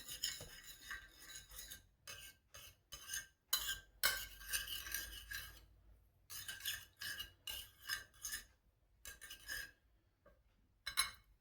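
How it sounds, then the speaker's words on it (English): A spoon stirs sauce in a bowl for a chicken recipe, making quiet, close, intermittent scraping and rasping strokes separated by short pauses, with no talking. "Then I will take a spoon, kind of mix it up."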